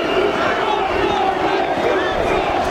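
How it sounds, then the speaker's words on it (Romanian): A large protest crowd in Bucharest's University Square in 2012 chants a slogan in loud, massed rhythmic voices, a dense roar of many people shouting together across the whole stretch. "Jos Băsescu, se scandează."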